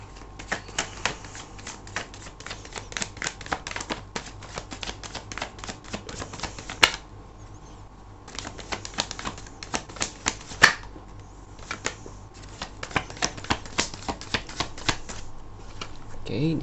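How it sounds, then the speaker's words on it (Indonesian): Tarot cards are shuffled and drawn by hand, dense bursts of crisp riffling and snapping clicks in clusters with short quiet gaps and a few sharper slaps, close and clear. "Kita akan ambil 5 kartu lagi ya."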